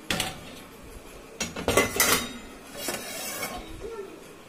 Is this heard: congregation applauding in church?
no